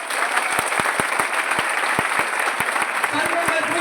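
A crowd at a business event claps steadily, a loud continuous patter of many hands with sharp individual claps standing out, while a voice is heard briefly.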